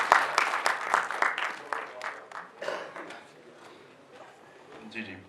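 Audience at an award ceremony in a conference hall claps for a gold medal recipient, a burst of applause that starts strong then fades, with someone speaking through and after it.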